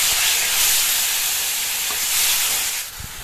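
Two ripe tomatoes go into a hot pan of brinjal pachadi in progress, giving a steady, loud sizzle and hiss of frying with faint stirring, and no voices.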